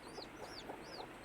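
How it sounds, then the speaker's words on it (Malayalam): A breeding hen clucks softly near her chicks, giving a few short, close calls over a faint, steady background, with high thin chick peeps rising in between. "ഇവളും നല്ല ബ്രീഡിങ് കോഴിയാണ്"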